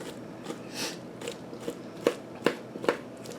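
A sharp knife scores the back of a rack of pork ribs in a series of crisp, close cuts, each a brief scraping crunch about every half second, getting sharper toward the end.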